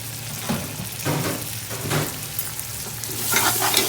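Tomatoes tipped into a pan of sizzling spices for a Bangladeshi chicken shatkora curry and stirred, with a loud crackle, rhythmic spoon scrapes and a hiss rising at the end.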